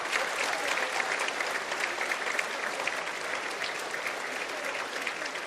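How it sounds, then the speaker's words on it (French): Sustained audience applause for two singers at a performance, dense and steady clapping filling the whole stretch at an even loudness, with no pauses. "Merci de nous applaudir."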